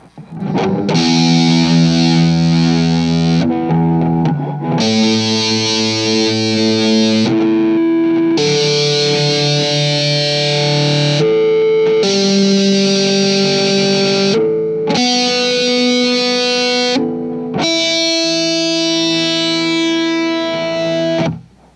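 An electric guitar played through overdrive and fuzz distortion pedals with the settings at maximum rings out in six long sustained chords. Each is thick and buzzing, separated by brief pauses.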